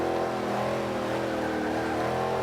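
A GT500 car engine accelerating in the racing video game Forza 5, a steady loud roaring drone that holds a constant high pitch throughout with no talking.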